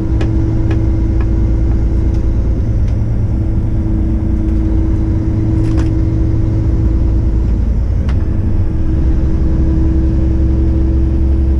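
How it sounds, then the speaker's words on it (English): Steady road traffic heard from inside a moving car, a constant loud engine and road rumble with a low hum, faint passing ticks and clicks, no talking. "There is starting to get this a little bit of traffic."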